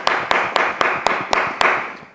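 Applause welcoming a guest on a studio show: eight crisp, evenly spaced claps in a steady rhythm, close and loud, fading after the last one.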